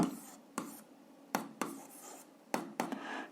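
Chalk or pen strokes on a board or paper while working out a 7th-grade algebra exercise, several separate scratchy bursts in quick succession, close and fairly quiet, with no talk.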